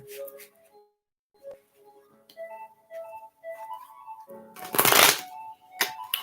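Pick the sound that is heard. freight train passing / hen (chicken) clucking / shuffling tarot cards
shuffling tarot cards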